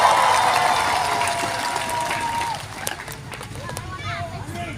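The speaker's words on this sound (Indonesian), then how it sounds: "Berikan tepuk tangan." A congregation at a revival church service in Indonesia applauds steadily in a dense, roomy wash of clapping that thins toward the end, with a sustained tone and a voice speaking over it.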